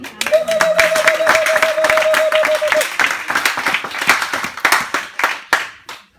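Church congregation clapping and applauding during a worship service, a dense burst of many hands that continues strongly for several seconds before thinning out and fading.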